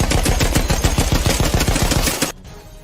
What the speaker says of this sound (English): The Fokker of Joseph opens fire.